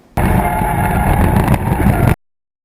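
Mazda RX7 drift car engine roaring loud and steady for about two seconds while drifting, with a harsh, rough edge, then cutting off abruptly into silence.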